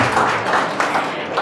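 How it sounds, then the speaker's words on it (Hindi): An audience at a university youth conference on happiness in Indore applauds together, a dense, steady wash of many hands clapping that fills the room for its whole length, with some voices mixed in. "अपने लिए तालियां बजाइए।"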